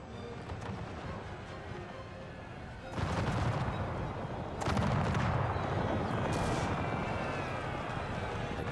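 Dense massed musket and cannon fire rumbles through a battle in the Empire 2 Generals Mod game, a continuous roar of overlapping shots that swells louder partway through and stays heavy to the end.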